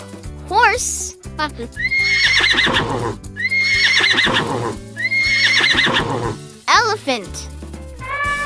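A horse neighs twice, each a long descending whinny with a shaky trill, loud and near, over a background music loop with brief sweeping effects at the edges.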